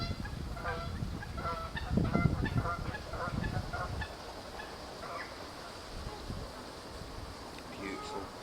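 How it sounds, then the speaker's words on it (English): Canada geese flying over water at a Suffolk water park, honking in a scattered series of calls, louder at first and then more distant over a steady outdoor background. "Canadian geese just flying over the water there."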